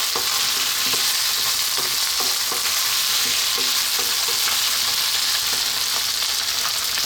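Fresh chili dropped into a hot pan of oil for a spicy potato curry, giving a loud, continuous sizzle and fry with faint scraping stirs underneath, close and steady throughout, without any talking.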